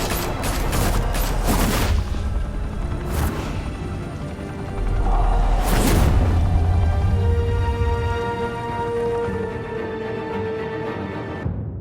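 Gunfire from the Batman: The Telltale Series video game, with rapid bursts of sharp shots and loud booms early on, then heavy rumbling and sustained, dense combat noise.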